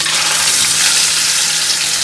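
Chillies hit hot oil in a pan while cooking a chicken dish, giving a loud, steady sizzle and frying hiss, close up and with no voices.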